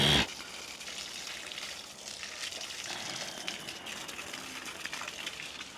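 Water gushes and trickles steadily over lush green vegetable beds in a garden, a continuous moderate splashing flow after a brief louder burst at the start, with no talk.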